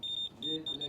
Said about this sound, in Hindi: ये बजर की आवाज़ आ रही है, ठीक है।